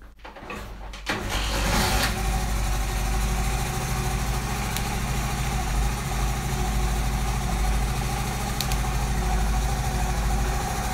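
A motorcycle engine, kept in genuine condition with a new capacitor fitted, cranks briefly and catches. It then settles into a loud, steady idle that runs on alone for about nine seconds.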